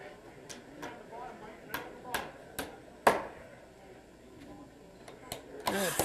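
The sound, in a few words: hammering during house framing competition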